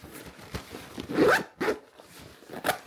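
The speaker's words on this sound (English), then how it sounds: "Let's see whether I can zip this up." A zipper runs around a Tenba 10L camera backpack, several short rasping pulls with small pauses, close and fairly quiet with no talking.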